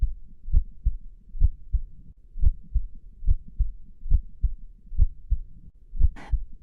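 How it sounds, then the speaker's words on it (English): A close-up heartbeat thumps in a steady double-beat rhythm, loud and intimate against a quiet background, with a brief soft rustle near the end. "that concludes our close-up heartbeats"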